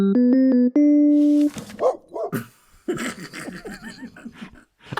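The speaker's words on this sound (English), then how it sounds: "Can we have the dog noise, Ian, going woof, woof?" A dog barking sound effect follows a short electronic jingle: a few quick barks, then people talking and laughing over more scattered barks.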